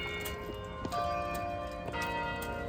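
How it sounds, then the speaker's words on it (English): Bells ringing from a bell tower at Longwood Gardens in Kennett Square, Pennsylvania, faint sustained tones with a few soft strikes, heard from a distance over steady rushing water and outdoor background noise. "You hear the bells going off from the bell tower."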